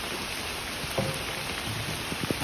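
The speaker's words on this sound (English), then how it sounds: "It's not supposed to rain like this today." Heavy rain during a town flood, a steady dense hiss of falling water with scattered drops and spatters, constant and close with no voices.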